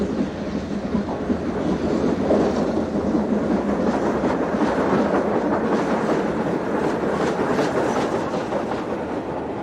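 A preserved LNER K1 steam locomotive hauls a train toward Edinburgh Waverley, a continuous rumbling roll of wheels and carriages with steady rhythmic clatter, loud and sustained for about ten seconds.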